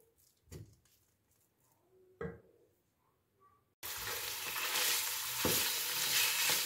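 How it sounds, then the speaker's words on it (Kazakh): Minced meat hits hot oil in a pan and sets off a sudden loud, steady sizzle. Quieter clinks and stirring come first, and the frying roar continues without pause to the end. "Қуырып аламыз етімізді."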